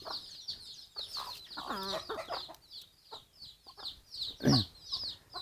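Chickens clucking on a small farm in the morning, with repeated close, fairly quiet cackles and chatter and a sharper squawk near the end, alongside a steady high chirping in the background.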